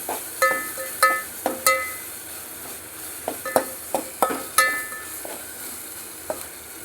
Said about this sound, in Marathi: अद्रक लसूण मसाला करून घेतला ना ते टाकायचं आणि ह्याला असं हलवायचं.